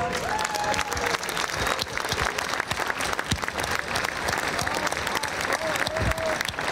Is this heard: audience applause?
yes